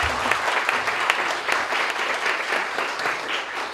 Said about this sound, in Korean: 우리 사무총장님도 한번 박수 한번 쳐드리죠.